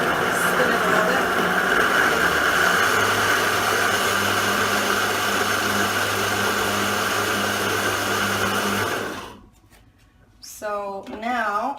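A blender spins a raw vegan cheesy sauce with a loud, continuous whirring motor drone that runs steadily for about nine seconds, then cuts off abruptly before a voice speaks.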